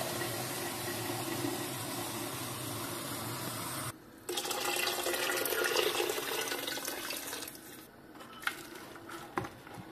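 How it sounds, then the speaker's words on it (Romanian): Water is poured into a pot of fried onion and pepper, a steady rushing stream that pauses briefly and then resumes with a brighter splash before tapering off into quieter trickles and a few clinks. "Punem apă."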